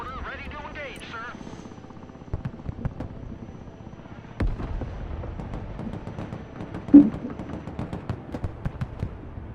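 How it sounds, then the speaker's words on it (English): Mortar shots in Broken Arrow thump out as sharp, booming bursts at irregular intervals, one especially loud near the end, over low rumbling battlefield ambience. "Mortar ready to engage"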